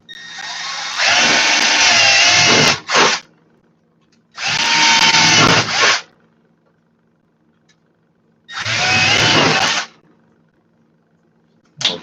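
Power drill boring through torn plastic in three loud bursts of whining, high-pitched grinding, each lasting one to two seconds and separated by brief silences, no talk.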